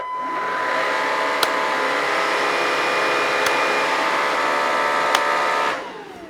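A Bosch BBH3280GB cordless vacuum cleaner whirs loudly up close with a steady high-pitched motor whine, changing power level with brief clicks, then winding down at the end.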